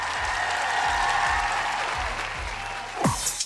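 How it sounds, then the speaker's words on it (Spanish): A studio audience on a Spanish-language TV show applauds, dense sustained clapping from a crowd close by, ending in a few louder bumps and a whoosh. "Estíbaliz, nuestro público te da un aplauso grande."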